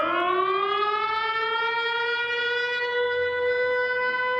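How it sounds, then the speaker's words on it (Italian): Ukrainian air raid sirens sound at the Venice Biennale, a loud, continuous wailing siren tone that slowly rises in pitch and holds, with no voices. "Le sirene antiaeree ucraine risuonano alla Biennale fino quasi a coprire la musica"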